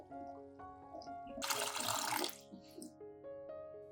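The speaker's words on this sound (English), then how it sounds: "Now pour water to wash the beans." Water poured over black beans to rinse them, a short splashing gush rising then fading over a few seconds, close and fairly loud against faint background tones.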